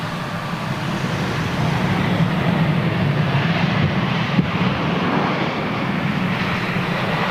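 A KLM Boeing 737 passes at Heathrow Airport, a steady, broad jet roar held at constant loudness throughout, heard from a distance with no voices.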